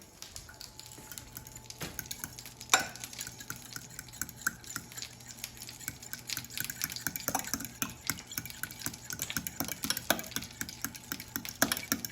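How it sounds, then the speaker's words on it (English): French toast batter being mixed by hand in a bowl: faint, quiet scraping and clicking strokes repeat through the whole stretch, with no voices. "I'm going to mix it until combined."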